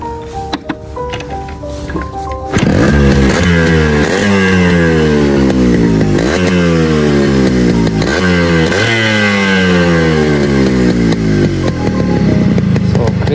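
A Yamaha RX motorcycle starts up close by and its exhaust revs loudly and repeatedly, the two-stroke engine note climbing and dropping in a series of throttle blips after a few quiet knocks.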